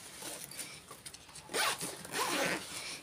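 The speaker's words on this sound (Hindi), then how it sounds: "एक ज़िप ये वाला भी इस तरह से बंद कर देंगे।" A zipper on a handmade three-zip-pocket tote bag is pulled shut in a few quick, close rasping strokes, the second half louder.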